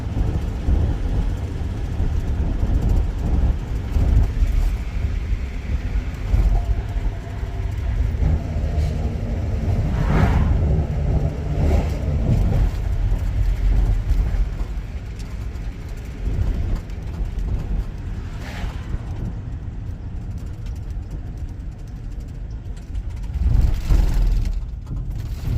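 A vehicle drives along a highway with its transmission downshifting, steady road and engine rumble up close with a few louder surges and knocks along the way, no voices.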